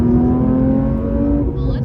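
A manual Porsche 992 GT3 driving through the Smoky Mountains, its engine revving with a loud, steady, high-pitched tone from close by, held for nearly two seconds.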